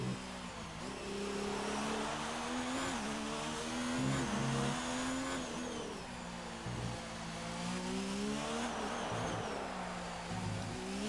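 A Formula 1 car in the F1 2019 video game revs out hard in seventh gear, its high engine note rising and dipping steadily and loudly throughout, with no voices.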